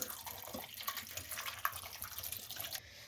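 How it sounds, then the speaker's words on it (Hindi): Water is poured into a cooking pot of chopped, washed turnips, a steady splashing pour that runs for about three seconds before cutting off, with no talking. "जब शलजम डालें तो इसमें थोड़ा सा पानी डाल दें"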